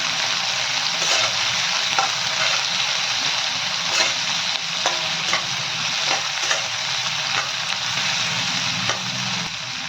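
Mixed vegetables and tomato stir-fry on full gas in a pan, a steady loud sizzle with frequent clicks and scrapes of stirring throughout, no talk.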